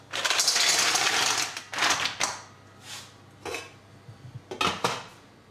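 Several bursts of clattering and sizzling as mussels tumble into a hot, dry saucepan, a long loud rattle followed by shorter, fainter clinks and hisses.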